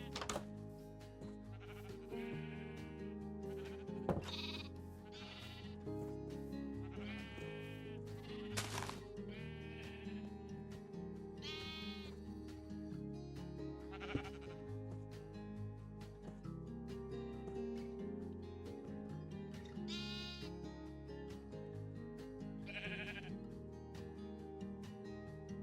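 Minecraft sheep bleat repeatedly over a steady game background, several short wavering cries spaced a few seconds apart, moderately loud and alone without talk.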